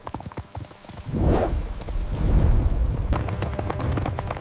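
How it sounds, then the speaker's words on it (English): Horses gallop along an ancient Roman road in a busy clatter of hoof beats, with a rumbling surge of motion swelling in the middle. Scattered sharp clip-clop hits continue near the end. "We ride for Rome. Change of horses, quickly!"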